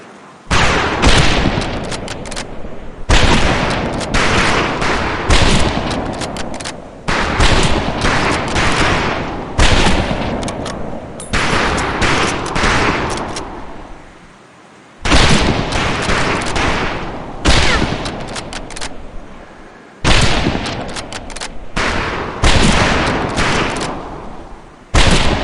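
Rifle fire at a boot camp shooting range in the World War II game Medal of Honor: Pacific Assault, loud rapid volleys of shots in bursts several seconds long, separated by brief pauses.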